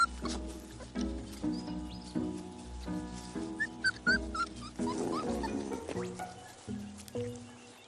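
Dingo puppies whimper and yip softly in short, high squeals over a low continuous rumble while suckling, with no talking.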